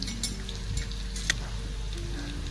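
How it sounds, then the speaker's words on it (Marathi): Onion bhaji fritters frying in hot oil, a steady close sizzle with faint crackles and a single brief clink partway through. "भजी तेलामध्ये व्यवस्थित भाजली जात नाही तोपर्यंत आपल्याला ह्याला पलटी करायचं नाही"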